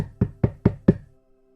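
Four firm, evenly spaced knocks on a door, close and loud, with nothing else audible and a brief resonant ring after each rap.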